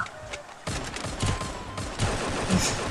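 Rapid gunfire in the Free Fire game, a dense burst of shots following a brief quieter lead-in.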